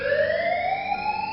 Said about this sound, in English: An alarm sounded for a moment as thick metal doors sealed the room